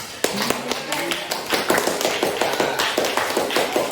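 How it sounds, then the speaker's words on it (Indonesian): Classroom students applauding together, a steady run of dense overlapping claps that stays loud and even throughout. "kita beri aplaus untuk kita semua"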